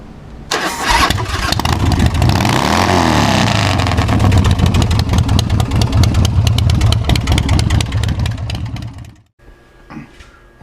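A custom chopper motorcycle with an S&S 124 motor and a Performance Machine rear wheel fires up and runs loud and close, a steady throbbing rumble lasting several seconds before cutting off abruptly into near silence.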